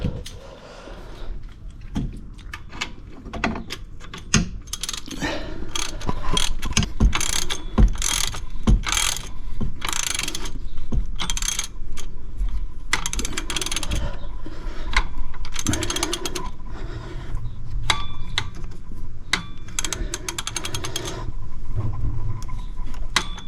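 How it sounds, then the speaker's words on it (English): A ratchet spins in rapid clicking bursts while a bolt is tightened during a car alternator install, loud and close, with brief pauses and clanks of metal between runs. "I gotta put the ratchet probably right in front of me and I can't see it."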